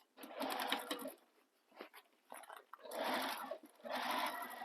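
A sewing machine stitches crossbody bag panels in three bursts of steady, close whirring, broken by short pauses and handling noise.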